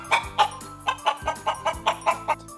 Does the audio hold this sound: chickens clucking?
yes